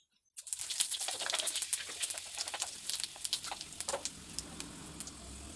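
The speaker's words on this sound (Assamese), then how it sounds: "এয়া কেৰাহীত তেল গৰম হৈছে আৰু এতিয়া পাঁচফোৰণ এচামুচ তেলত ঢালি দিছোঁ।" A spoonful of panch phoron spices drops into hot oil in a wok and sizzles, bursting into a loud crackling patter of rapid pops that settles into scattered, steady spitting.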